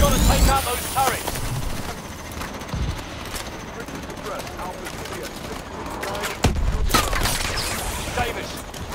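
Gunfire from the video game Call of Duty: Advanced Warfare, with scattered automatic bursts and a few heavy thumps running continuously under speech.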